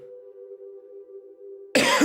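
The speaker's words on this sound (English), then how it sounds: "Sorry about the cough." One sharp cough bursts out at the end, close and loud, after a quiet stretch with a steady low hum in the background.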